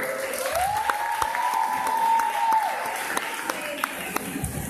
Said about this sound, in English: An applause, please, for you.